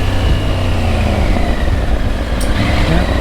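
A Triumph Tiger 900 with its triple engine is ridden under braking on Michelin Road 6 tyres, a steady close rumble of engine and road noise with wind rush running throughout.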